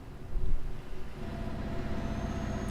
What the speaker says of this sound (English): I enjoy this engine sound.